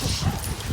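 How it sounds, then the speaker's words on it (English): A dog gives short, close whimpering yips, straining to bark, over a noisy indoor background. "as you can tell, she definitely wants to bark"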